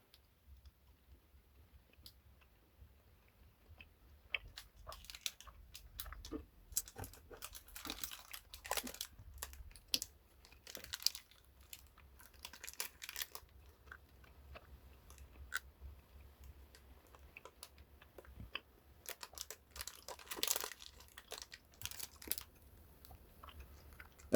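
Mint chewing gum from a Slovenian 24-hour ration being chewed, with soft, irregular close-up crunches and wet mouth clicks in scattered bursts over a quiet background, plus occasional wrapper crinkles.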